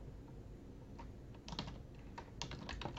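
Typing on a computer keyboard: faint, scattered key clicks that come in small clusters over a low steady hum, quiet and close, with no voice.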